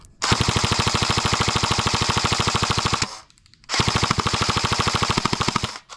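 Cheap airsoft gun firing on semi-automatic in a rapid, even string of sharp near shots, pausing about half a second before another fast burst.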